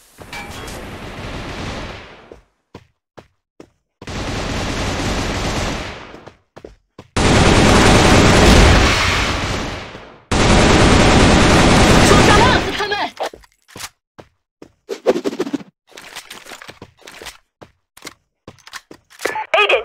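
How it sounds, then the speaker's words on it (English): Bursts of rapid automatic gunfire from a China seaside shore battle in a video game, several loud sustained volleys a few seconds long, separated by short gaps with scattered single shots and clicks. "I'm going to shoot."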